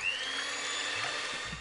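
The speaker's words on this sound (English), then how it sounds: "I'm going to be very lazy and do it with an electric whisk" An electric whisk whirring steadily through egg whites in a bowl, a thin continuous high motor whine held close and fairly quiet, with a couple of soft knocks near the end.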